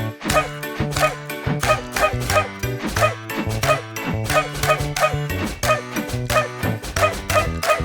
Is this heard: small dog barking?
yes